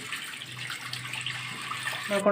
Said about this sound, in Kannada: 1 ಲೋಟದಷ್ಟು ನಾನು ನೀರು ಹಾಕ್ಕೊತಾ ಇದ್ದೀನಿ.